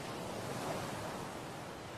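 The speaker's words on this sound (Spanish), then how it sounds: "el viento había empezado a soplar" Wind sweeping over open ocean waves, a steady, full-bodied roar of surf and gusting air that holds constant throughout, with no voices.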